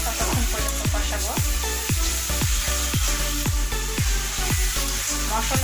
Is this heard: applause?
no